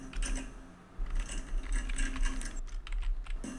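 Text is typed on a computer keyboard in a quick, uneven run of close keystrokes, clicking clearly with no voices.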